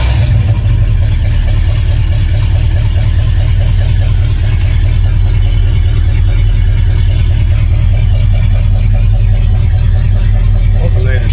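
International Harvester IH 345 V8 engine running through a full-temperature warm-up, a loud, steady close-up idle with a deep rumbling pulse and a continuous even throb throughout, with no voices.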